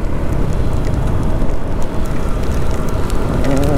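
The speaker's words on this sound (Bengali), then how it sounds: "মাই গড, বৃষ্টি শুরু হয়ে গেছে।" Rain begins falling on a road during a motorbike trip from Dhaka toward Kaptai, a loud, dense, steady hiss and patter that carries on without pause and has no voices.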